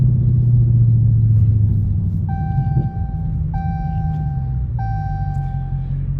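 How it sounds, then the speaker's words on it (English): A car's seatbelt warning chime sounds three times, each a crisp, evenly spaced electronic tone, over a steady low engine rumble inside the cabin. "Seatbelt chirp is super annoying."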